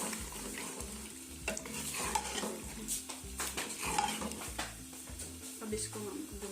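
Masala frying with whisked yogurt for chicken biryani is stirred vigorously in a pot, with close, uneven scraping and clinking strokes over a low sizzle and background music.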